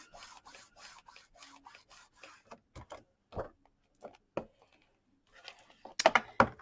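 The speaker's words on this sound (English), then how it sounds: "And burnish that on there." Bone folder or hand burnishing paper onto a card folio, heard as soft scattered rubs and scrapes that build to a few louder, sharper strokes near the end, close by with no talk.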